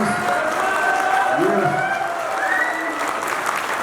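An audience at a product launch event in Jaipur claps loudly and steadily, a dense sustained applause filling the room, while voices can be heard over it.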